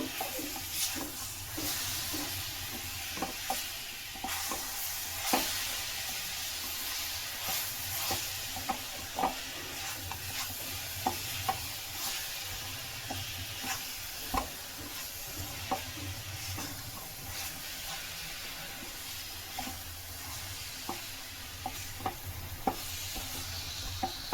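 A coconut, jaggery and cardamom powder laddu mixture is stirred in a pan, with a soft continuous sizzle and regular scraping strokes of a spoon, close and moderately quiet.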